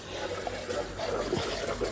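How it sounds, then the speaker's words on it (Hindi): Water overflows from a tank and splashes continuously while a pump motor runs, producing a steady, fairly loud wash of trickling and pouring noise with no talk over it. "ये टैंकी खोला बह रही है, मोटर चल रही है।"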